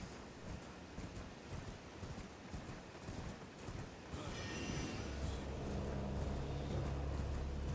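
A horse galloping in Elden Ring, with rhythmic hoof clip-clop over a windy outdoor ambience; the hoofbeats give way to a steady wind-like rush partway through.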